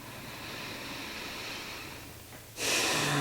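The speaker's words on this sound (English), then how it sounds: "Take a deep breath, release your exhale." A slow, deep breath drawn in during a calm yoga session, followed by a louder, fuller exhale near the end, steady and close with no talking.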